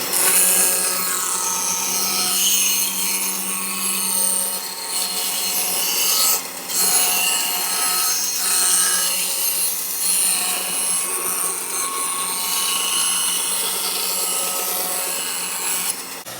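A band saw blade cuts through a wooden board in one steady, continuous rasping run of about sixteen seconds, loud and close, with no talking.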